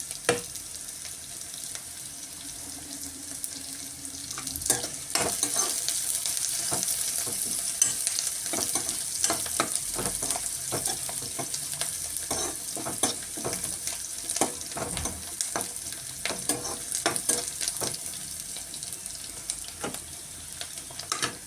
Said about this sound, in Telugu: ఇక్కడ పోపు కలుపుకుంటూ ఉండాలి, పప్పు కూడా కలుపుకుంటూ ఉండాలి